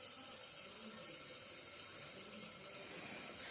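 Water is poured into potato curry in a pan, a soft, steady hiss and trickle heard faintly and alone for a few seconds.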